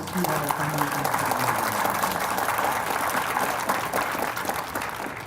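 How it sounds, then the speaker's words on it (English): Audience applause at a tech demo day event, a dense sustained round of clapping from a crowd, steady and fairly loud throughout with a few voices mixed in. "Let's give our funders and supporters a round of applause"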